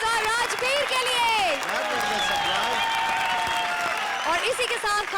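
Studio audience on an Indian TV comedy show clapping loudly and steadily throughout, a dense, close wash of applause layered with music and a host's voice.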